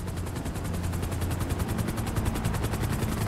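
A helicopter in Grand Theft Auto, its rotor thumping in a fast, steady pulse over a continuous droning roar, close and constant throughout.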